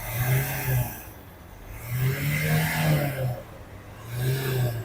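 A 2014 Renault Duster 85 PS diesel engine is revved three times from idle, each rev a rising then falling drone with a pulsing low hum, close and alone.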